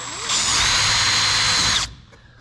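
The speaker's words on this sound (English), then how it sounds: "So we're going to just go ahead and screw in here." A power drill whirs in one steady burst of about one and a half seconds, driving a screw into a plastic bumper during a repair, loud and close, then cuts off to near silence.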